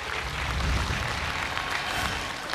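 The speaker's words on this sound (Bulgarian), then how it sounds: "Аплодисменти за Денис." A talent-show audience in Bulgaria applauds for Denis, a brief, steady wash of clapping from a large crowd, dense and sustained throughout.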